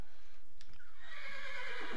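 Horse whinnying in the game Minecraft, a single high, wavering neigh that rises and trails off, heard close and clear over faint game ambience.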